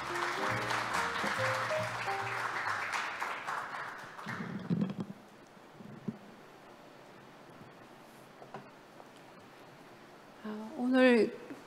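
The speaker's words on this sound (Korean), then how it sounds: "큰 박수로 환영해 주시기 바랍니다." An audience claps to welcome a keynote speaker at an environmental law conference. Loud applause mixed with music for about four seconds, then fading into near quiet, with brief voice sounds near the end.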